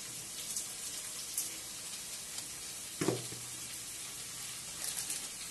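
Vegetarian upma sizzling in a pan while being stirred, a steady crackling fry with soft scraping strokes and a louder scrape near the middle, close and without speech.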